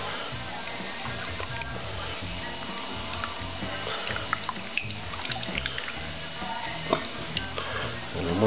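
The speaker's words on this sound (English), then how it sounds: "we'll give it a good stir." A home brew beer mixture for Coopers Mexican Cerveza is stirred in a fermenter, a steady swishing, sloshing wash of liquid that runs continuously at a moderate level without pauses.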